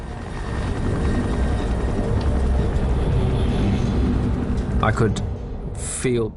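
A helicopter drones steadily overhead, a dense, throbbing rotor roar that fills the whole stretch, with voice-like sounds and a sharp noise breaking in near the end.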